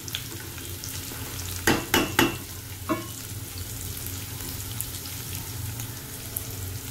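Onions frying in a pan for a potol chingri curry, a continuous sizzle under several loud scraping spoon strokes around the middle, then steady frying alone.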